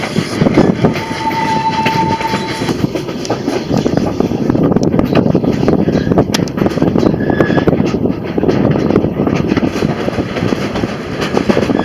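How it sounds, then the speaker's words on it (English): A Cumbres & Toltec train rumbles and clatters along the rails, with a short warning whistle tone early and another brief one later over the steady noise, before a tunnel. "that's the warning whistle, folks, for the first tunnel"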